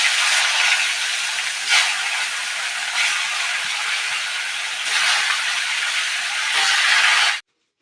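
Pre-steamed broccoli goes into hot mustard oil seasoned with a pinch of turmeric, giving a loud, continuous sizzling hiss that swells a few times and stops abruptly near the end.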